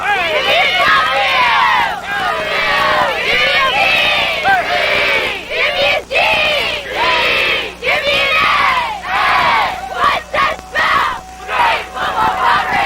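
High school cheerleaders at a football game shout a special chanted cheer in unison, loud rhythmic bursts of voices with pauses between phrases, growing choppier toward the end.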